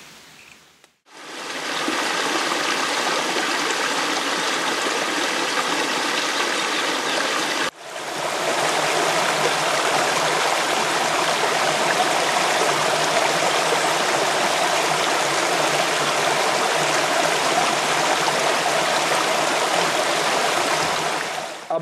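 A river stream rushing steadily beside old dam and mill ruins, a loud continuous broadband roar of flowing water close by, briefly interrupted once, with no voices.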